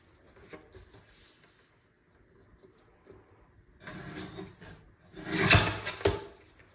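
A paper trimmer cutting junk journal paper, with quiet handling at first and then a louder sliding, scraping cut of the blade followed by a sharp clack near the end, heard up close with no talking.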